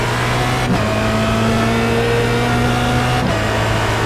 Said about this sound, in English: See how the car is just picking up speed in a straight line.